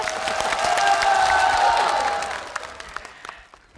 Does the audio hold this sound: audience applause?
yes